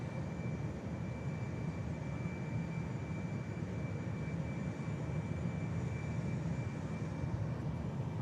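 A Boeing 787 Dreamliner taking off at Manchester Airport, a faint, steady, distant engine rumble with a thin whine above it, no talk.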